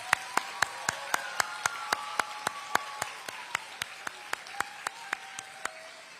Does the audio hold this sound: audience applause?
yes